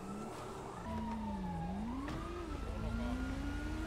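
A police car siren wails up and down with a wavering pitch, growing slightly louder as it approaches over a low background rumble.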